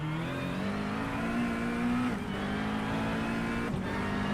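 Race cars in a sim racing endurance event on a wet track, engines droning loud and steady with a slight pitch dip between gear changes, one car passing close, no talk.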